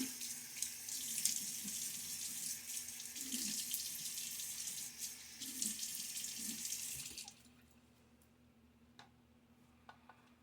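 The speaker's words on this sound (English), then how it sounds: "Get my face wet now." A bathroom tap runs steadily into a sink while someone wets their face before a wet shave, a continuous close hiss that cuts off abruptly after about seven seconds, leaving a few small drips and clicks.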